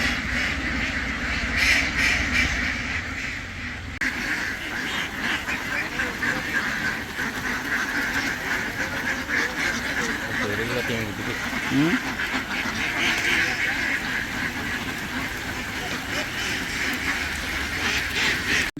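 A large flock of ducks in a village setting, continuous overlapping quacking nearby, steady and busy throughout, with people talking over the calls.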